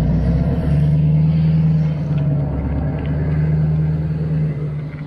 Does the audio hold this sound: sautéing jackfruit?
no